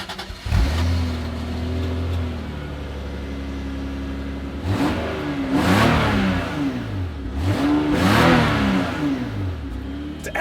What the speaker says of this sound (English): This is the 222 horsepower naturally aspirated 2JZ GE engine